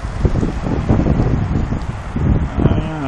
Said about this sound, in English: And it's very, very windy.